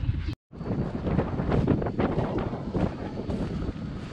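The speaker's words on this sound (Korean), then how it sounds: "와, 바람 장난 아닌데." Strong wind blasts across the microphone on Udo island off Jeju, a loud, continuous buffeting roar with a brief dropout near the start and gusty swells throughout.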